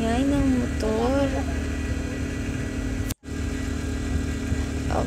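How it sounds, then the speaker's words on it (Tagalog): A motorcycle engine drones steadily outside, heard indoors as a constant low rumble beneath someone talking, with a brief dropout midway. "ang ingay ng motor."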